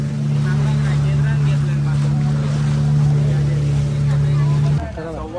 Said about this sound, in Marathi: आता आपण बोटीत बसलोय बघा. पाणी चाललंय इकडं.